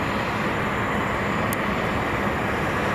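Aircraft at Boeing Field, heard as a dense, steady broadband roar that stays loud and unchanging throughout.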